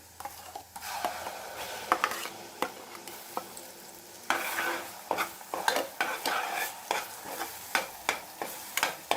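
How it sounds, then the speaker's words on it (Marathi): Masala spices fry in a pan, a constant sizzle under repeated metal spoon scrapes and clanks that settle into a quick, regular stirring rhythm. "मसाला चांगला परतून घेऊ"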